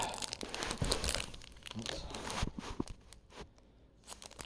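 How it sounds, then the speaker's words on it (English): Someone struggles by hand to tear open a bent trading card pack, producing close, irregular crinkling and crumpling of foil wrapper with brief tearing bursts, loud at first then thinning into sparse rustles. "Here what I'm going to try to do is open this pack by hand."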